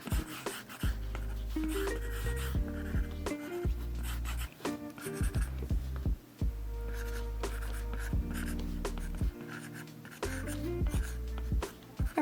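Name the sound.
pencil sketching on paper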